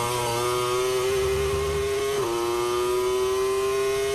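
A real Suzuki MotoGP racing motorcycle engine revs loud and close with a steady, high buzzing drone, dipping briefly in pitch near the middle as if shifting gear before settling back to a constant scream.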